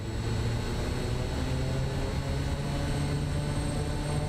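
A SimWorks Kodiak 100 single propeller engine in Microsoft Flight Simulator 2024 drones steadily and loudly with a constant low hum, continuous throughout with no talk over it.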